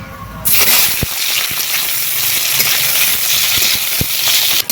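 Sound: chopped onions frying in mustard oil

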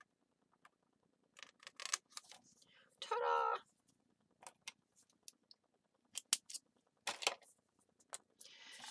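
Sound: scissors cutting a file folder

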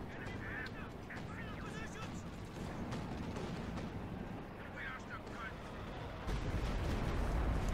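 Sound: artillery barrage in Company of Heroes 2 video game

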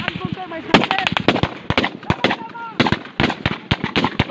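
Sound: sniper gunfire during an armed encounter

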